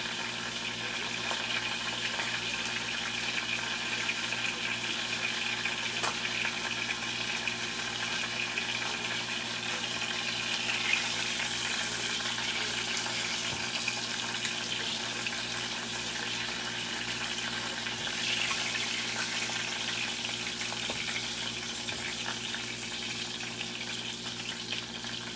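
Food fries in a pan with a continuous, even sizzle and crackle, close and steady throughout, over a faint constant hum and without speech.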